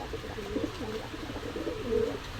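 Pakistani high-flyer golden pigeons coo softly in repeated warbling phrases, close by over a faint background hum.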